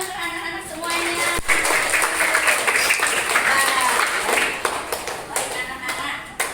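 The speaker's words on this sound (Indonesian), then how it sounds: "Tepuk tangan untuk anak-anak semuanya." Children and a teacher in a classroom break into brisk hand clapping that starts sharply and continues steadily for several seconds, with voices mixed in under the applause.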